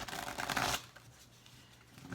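Tarot cards are shuffled in a quick, dense riffle of papery flutter lasting under a second, close and fairly quiet, and the room then goes near-silent.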